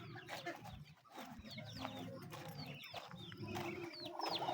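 Hens cluck in a coop in a close, busy chorus of short, overlapping calls.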